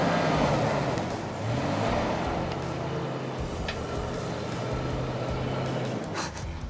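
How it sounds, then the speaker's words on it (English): A truck with a gnarly exhaust leak drives through deep snow, its engine droning and rumbling continuously near the microphone, with rough revving surges and a few sharp puffs toward the end. "Now you just heard that gnarly exhaust leak"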